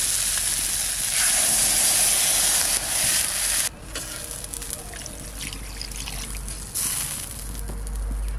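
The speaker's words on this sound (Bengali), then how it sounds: "এবার জল দিয়ে দেবো।" Water is poured into a pan of sautéed cumin and coriander spices, setting off a loud, close steam hiss that drops off sharply partway through and then settles into a quieter bubbling hiss.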